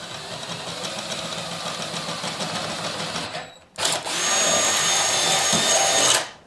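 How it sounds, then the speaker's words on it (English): Electric drill boring holes through a Lexan RC car body on an E-Revo 2.0 for pop rivets, a steady whirring run that drops out briefly, then a second sustained burst, close and loud with no talk. "we're going to drill some holes and pop rivet it in"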